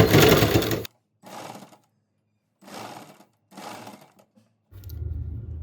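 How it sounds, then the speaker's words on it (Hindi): A sewing machine runs a basting stitch on a blouse in four or five short bursts of rapid mechanical whirring, separated by brief pauses, close up and alone. "मैं यहाँ पे कच्चा बखिया लगा रही हूँ"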